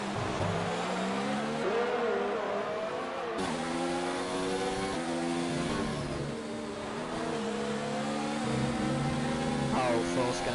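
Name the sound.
F1 racing cars in video game F1 2019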